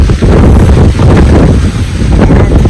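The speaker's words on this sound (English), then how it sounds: "it's a very windy day and it's a cool day." Strong wind gusts on a mountain trail in the White Mountains of New Hampshire, battering the microphone as a loud, continuous low roar that drowns out everything else.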